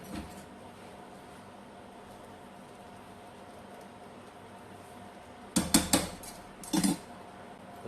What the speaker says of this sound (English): Stirring up.